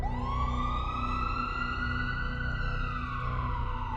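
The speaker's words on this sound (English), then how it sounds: "Someone is calling an ambulance, but it's stuck in traffic," A continuous wailing emergency siren, rising and then slowly falling in pitch, heard steadily over low traffic rumble.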